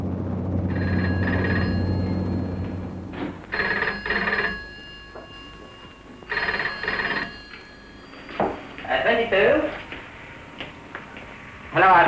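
Telephone bell ringing at an RAF rescue station, a close electric ring in three repeated bursts with pauses between, followed by someone speaking.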